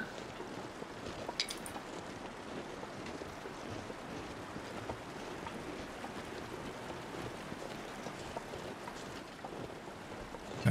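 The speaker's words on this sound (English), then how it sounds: "Got the waterfall to our right." Steady rushing roar of a waterfall in The Long Dark, broad and continuous like wind-driven water, holding an even level throughout with no talk.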